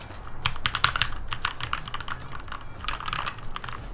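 Typing on a Keychron K2 mechanical keyboard, a fast run of crisp overlapping key clacks with brief pauses, close up and steady against light background noise, no voices.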